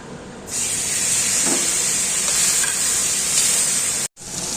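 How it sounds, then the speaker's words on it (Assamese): Fish pieces coated in salt and turmeric fry in hot oil, giving a loud, steady sizzle and hiss that starts suddenly and carries on with a brief cut near the end. "এয়া নিমখ হালধি সানি থোৱা মাছখিনি মই অলপ ফ্ৰাই কৰি ল'ম"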